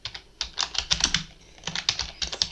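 Computer keyboard typing as a name for a new notes vault is entered: bursts of quick, close key clicks with a short pause in the middle.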